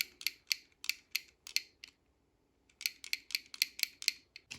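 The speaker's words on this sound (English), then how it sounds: "it will go forward on those wheels, but it won't go backwards because the ratchets catch" Rapid clicking of ratchets catching in the wheel mechanism of a 3D-printed vintage toy robot, two bursts of crisp ticks split by a short pause, close and alone.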